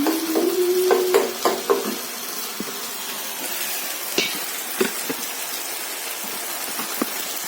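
Tomato puree mixture stirred in a pan, with quick scraping clicks of the spoon at first, then a softer, steady sizzle dotted with occasional taps.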